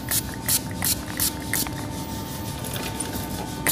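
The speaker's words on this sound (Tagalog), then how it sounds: "Spray lang, spray." A homemade grease remover is sprayed from a trigger bottle in a series of short hissing bursts at a steady pace, close and fairly loud over a constant background hum.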